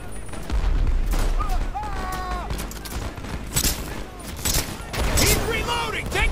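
Gunfire at target practice in Brothers in Arms 3, a dense run of close, loud shots and bursts with booming reports, mixed with game voices calling out over the shooting.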